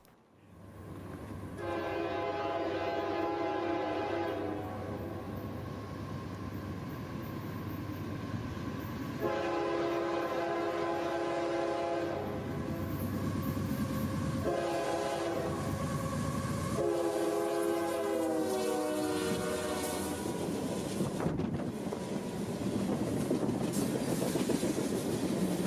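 A long 8,500-foot freight train led by two AC-44 locomotives passes close by, with several long blasts of the horn over the steady roar of engines and rumbling railcars.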